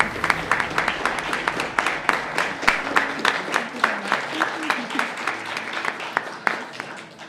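Audience applause for the startups that took part in an event, a steady round of clapping from a crowd in a hall, lasting throughout with dense overlapping claps and no talk.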